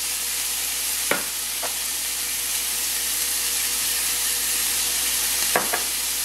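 Venison burgers brown in a dry skillet with no fat, giving a steady, loud sizzle and hiss throughout, broken by a few sharp scraping clicks from a utensil.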